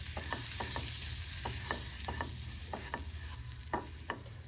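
Flour toasts in butter over a low flame for a creamy white sauce, a soft steady sizzle broken by regular scraping strokes of a spoon stirring the pan, close and without speech.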